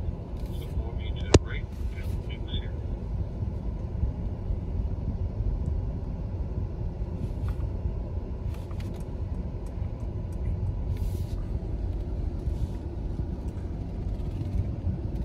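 A 2022 Mercedes-Benz EQS 580 electric car driving, giving a low, steady road and cabin rumble at moderate level with a sharp click early on and a few faint knocks, with no engine note.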